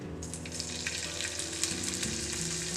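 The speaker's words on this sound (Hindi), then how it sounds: "हमें इसके ऊपर थोड़ी टेम्परिंग ऐड करनी है। उसके लिए हम लोगों ने तेल गरम किया है" Ginger, green chilli and asafoetida tempering in hot oil sizzles steadily and fairly close for the whole stretch, a continuous frying hiss with faint crackles and no voices.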